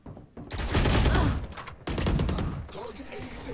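Phantom rifle fire in the Valorant game, a dense burst of shots followed by another volley, loud and close, with a voice speaking over the gunfire.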